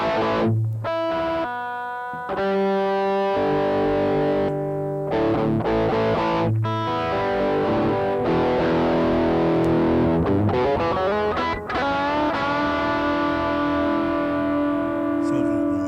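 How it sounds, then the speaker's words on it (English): An electric guitar through a distortion pedal with cabinet simulation plays chords and single notes, thick and buzzy with a boxy amp-like tone, loud and sustained with brief pauses between phrases. "makes it sound a little bit less like a distortion pedal and a little bit more like a fake amp"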